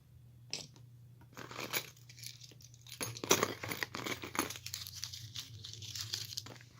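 Metal keys handled and shaken near the mic, used as a homemade drum kit for a PO-33 sampler: scattered jingles, clinks and rustles with a louder burst of jangling midway, no talking.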